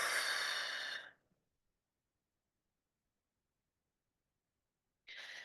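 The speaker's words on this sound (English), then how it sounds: "So we breathe in for 4, hold it for 4, breathe out for 4." Breath pushed out during a 4-4-4 breathing exercise, a loud airy exhale lasting about a second, then silence, and the start of the next breath at the very end.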